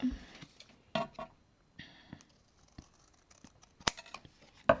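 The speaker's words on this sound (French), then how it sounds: "Les ciseaux." Scissors make several short crisp snips and crunching cuts through cardboard, close and fairly quiet, separated by pauses with small handling rustles in between.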